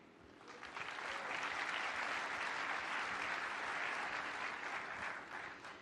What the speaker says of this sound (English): You're applauding, so you probably know why.